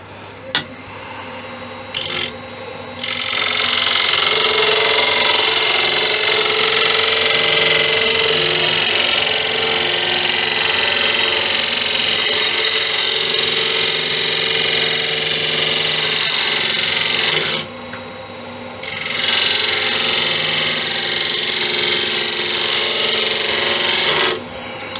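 A wood lathe spins a workpiece while a tool takes a finish cut, giving a loud, steady scraping hiss that runs for long stretches and stops briefly before resuming.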